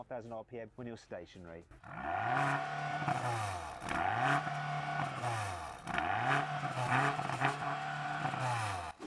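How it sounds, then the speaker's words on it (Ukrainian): A BMW XM engine revs up sharply and bounces off its rev limiter three times in a row, each loud roaring climb ending in a cut and fall. Someone talks briefly before the first rev. "BMW вирішила поставити сюди обмежувач обертів, тож перевіримо, як він звучить."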